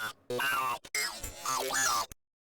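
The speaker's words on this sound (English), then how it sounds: "And what I'm using here is kind of like a text to speech" A high, squeaky synthetic voice speaks in short choppy bursts, with warbling robotic pitch and abrupt cutoffs between phrases.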